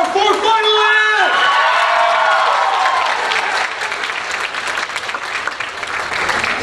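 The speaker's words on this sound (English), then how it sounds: "Here's one more final applause for our four finalists!" Loud applause and cheering from a high school talent show audience for four singing finalists, a dense crowd roar that follows a brief held tone and holds steady.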